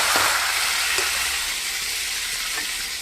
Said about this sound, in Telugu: ఇప్పుడు మనము టమోటో, ఆనియన్, కరివేపాకు వేసుకుంటున్నాం.